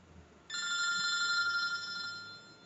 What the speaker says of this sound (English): and I got a phone call